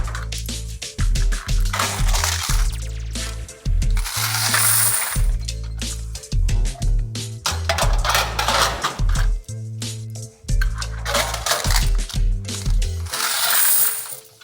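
Quarters collected from laundromat coin machines clatter and jingle as they are handled and poured, loud clustered metallic bursts with short pauses between, no talking.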